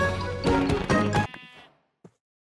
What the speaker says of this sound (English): Woo, sheep.